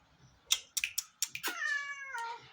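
A cat, apparently called Mini, in a family home gives a clear, drawn-out meow after a few sharp tapping clicks, close and fairly loud.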